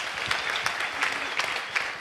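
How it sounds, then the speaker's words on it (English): A steady round of applause from the crowd at an entrepreneurship Q&A talk, many hands clapping evenly with a few louder nearby claps punctuating the wash. "Let's clap it up for him."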